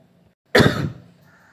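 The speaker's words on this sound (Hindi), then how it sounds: "सॉरी, खांसी हो जाता है ना" A single sharp cough bursts out after a moment of near silence, close and loud, then fades quickly.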